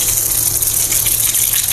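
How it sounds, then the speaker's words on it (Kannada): Mustard seeds hit hot oil in a catering kitchen while curd rice is made, giving a steady, loud hiss that holds unbroken throughout. "ಇವಾಗ ಎಣ್ಣೆ ಕಾದಿದೆ. ಕರ್ಡ್ ರೈಸು ಸಾಸಿವೆ ಹಾಕೋಣ."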